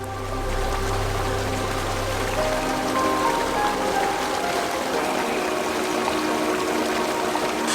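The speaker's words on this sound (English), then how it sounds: "the water plunges down into a pool and reappears in a lower-lying section of the valley" Continuous rushing water as a small river in Mongolia's Orkhon Valley plunges into a pool, pouring and splashing steadily, a broad close wash of flowing water with a low rumble fading early on.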